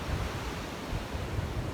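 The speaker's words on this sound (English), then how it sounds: "This week we are along the Atlantic Ocean." Atlantic Ocean waves wash steadily onto the shore, a continuous broad rushing surf with no voices.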